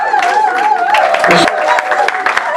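Guests applaud at a civil wedding ceremony. A brief, loud burst of clapping and crowd noise is mixed with voices and a sustained tone.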